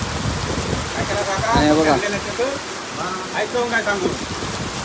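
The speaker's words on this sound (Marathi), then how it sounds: "फायनली पाऊस आला आहे" Steady rain pours down on a farm during paddy threshing, a dense hiss that continues throughout while people talk close by.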